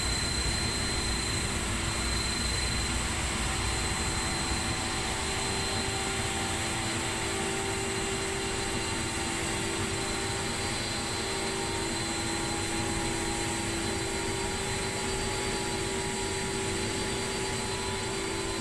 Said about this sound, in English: starting engine number 2.